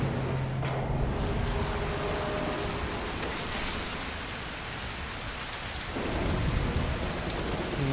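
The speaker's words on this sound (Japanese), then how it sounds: "嵐を呼んでみる。" A thunderstorm summoned in the video game Broken Pieces brings heavy steady rain with rolling thunder rumbles and a sharp crack near the start, filling the scene at close range.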